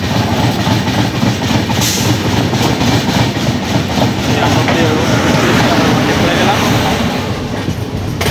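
The Poorva Express rolls into Ghaziabad Junction on a New Delhi to Howrah run. Loud, close, continuous rumble and rattle carry the faint clickety-clack of wheels over rail joints, and a voice talks over the noise.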